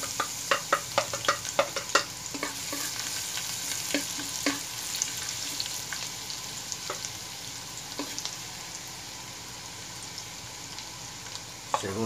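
Garlic sizzles in hot oil in a wok, a steady bright frying hiss broken by a quick run of sharp spatula taps and scrapes early on, then fewer stirring knocks, with no one talking.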